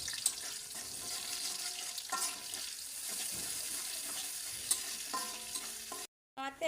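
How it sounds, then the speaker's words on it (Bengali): Spice paste frying in oil left over from frying chicken, a steady soft sizzle with stirring scrapes and scattered clinks, close and moderately quiet, with a brief dropout near the end and no talking. "মুরগি ভাজা তেলের ভিতরে পেস্টটা দিয়ে দিলাম"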